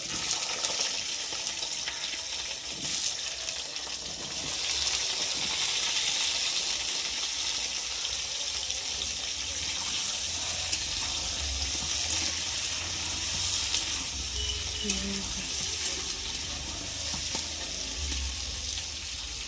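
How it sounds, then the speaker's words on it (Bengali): Chopped chili and potato frying in hot oil, a steady broadband sizzle running continuously throughout at moderate loudness, with occasional faint stirring and no talk. "এখন এই যে কেটে রাখা লঙ্কা আর আলুটাকে দিয়ে তেলের মধ্যে ভালো করে ভেজে নেব।"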